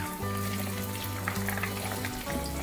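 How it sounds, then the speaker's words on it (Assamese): Chilli and onion drop into hot oil already sizzling with cumin, garlic, bay leaf and cinnamon for a masala paneer, giving a loud, steady crackling fry up close with a brief shift in tone as they hit. "জলকীয়া আৰু এয়া দিছোঁ পিঁয়াজ।"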